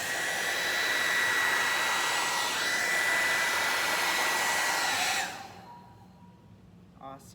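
A hair dryer blows steadily and loudly for about five seconds, pushing white paint back across a ceramic tile in a Dutch pour, then cuts off and leaves quiet room tone with a small knock near the end.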